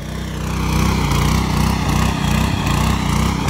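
A tractor fitted with a 6-foot-wide cage wheel runs in a field in second gear, giving a loud, steady low engine drone that holds throughout without a break.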